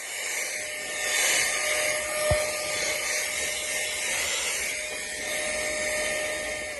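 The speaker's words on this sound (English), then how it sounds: "in this price range, this air duster performs so well" A cordless electric air duster blows steadily at close range, giving a loud, continuous high-pitched motorized whine and rushing airflow that holds nearly constant, with a brief click partway through.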